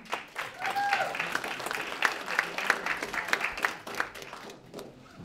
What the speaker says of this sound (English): So clap for Vibrate.